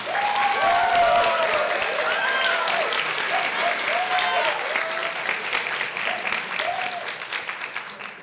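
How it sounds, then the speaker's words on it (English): Sustained applause from an audience at a high school spring band concert, loud and dense from the start and tapering gradually, with a voice speaking over the clapping. "So can we just give her one more round of applause?"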